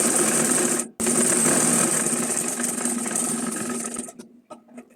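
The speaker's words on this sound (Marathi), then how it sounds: "इथे पायपिंगसारखंच आपल्याला शिलाई करून घ्यायची आहे" A sewing machine stitches piping along a folded cloth bag, a loud, steady close motor buzz with a brief pause near the start, then stopping and leaving a few small clicks.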